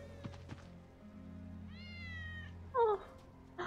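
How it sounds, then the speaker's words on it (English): A cat meows in the video game Final Fantasy 7 Remake, one clear drawn-out mew followed by a sharper, louder meow, set over a low ambient hum and a few soft thumps. "Hear that? I hear cats."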